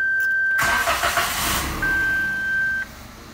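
A 2021/22 Suzuki Alto VXR 660cc engine cranks and catches after being started with its genuine immobilizer key, a short burst of starter noise settling into a steady idle, with a thin electronic tone sounding before and after.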